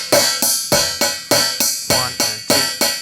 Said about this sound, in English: but it loosens, then I get the trashy sound I'm looking for.